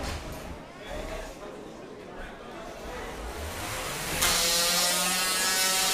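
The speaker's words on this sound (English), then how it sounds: "push them up against the wall, and just grind into their plastic parts" A 3lb combat robot grinds into an opponent's plastic parts in an arena, a continuous buzzing, rasping mechanical whine that swells louder near the end, with commentators talking over it.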